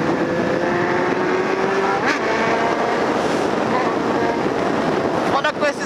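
A motorcycle fitted with an extremely loud aftermarket exhaust revs hard and close, a steady raw engine roar with rising pitch sweeps, ending in a few choppy bursts.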